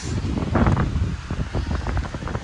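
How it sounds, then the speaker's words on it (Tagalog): Strong wind roars against the microphone in uneven gusts, loud and close, with a low rumbling undertone. "Lakas ng hangin."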